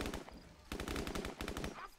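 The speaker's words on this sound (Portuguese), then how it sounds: "eles estão trocando tiro já" Rapid automatic gunfire from the video game Call of Duty: Modern Warfare, with dense bursts of machine-gun shots in two loud stretches separated by a brief lull.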